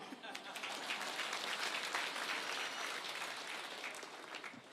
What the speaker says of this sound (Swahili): Tumpigie makofi tena Mheshimiwa Rais wa Komoro jameni